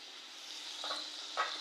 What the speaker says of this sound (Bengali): চিংড়ি মাছ দিয়ে তারপরে এলো শাপলা দিয়ে ভাজি করবো